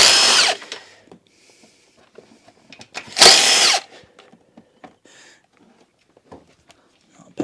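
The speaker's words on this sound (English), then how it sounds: "we'll go around and remove all these bolts" Power tool backing bolts out of the water pump on a Honda Rubicon ATV engine, two loud bursts of whirring with a quieter stretch of clinks and handling noises between them.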